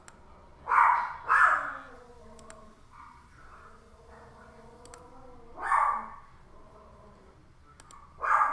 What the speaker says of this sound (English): I don't know why my dog's mad.